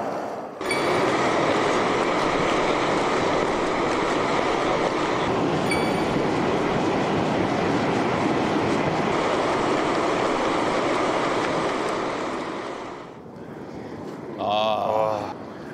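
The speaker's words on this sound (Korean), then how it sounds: "가스 새는 소리네" Steam and gas hiss steadily and loudly from a geothermal vent beside the Reykjadalur hot spring in Iceland, a dense continuous roar lasting most of the time before cutting off, with a brief voice at the end.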